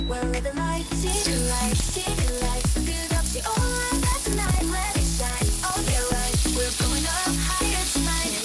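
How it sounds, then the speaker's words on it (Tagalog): Chicken with its skin peeled off frying in a pan, a steady sizzle under a rhythmic music track, loud and close. "Ang ating chicken ay ating i-fry saglit."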